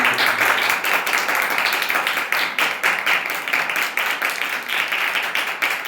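A church congregation claps together in a steady, dense burst of applause that runs for several seconds, loud and close, with little speech.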